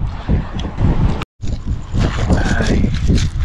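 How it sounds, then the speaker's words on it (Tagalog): Strong wind on the Doha Corniche waterfront in Qatar buffets the microphone during shore fishing, with loud, gusty rumbling that drops out briefly and then returns. "Oh, it's so windy."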